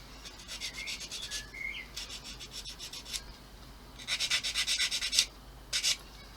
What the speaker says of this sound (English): sand it down